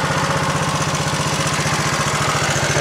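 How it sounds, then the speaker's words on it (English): A 1960s Honda CL90 motorcycle idles up close, its small engine putting out a steady, rapid putter with a faint mechanical ticking from the cam chain. "I think I hear the cam chain a little bit"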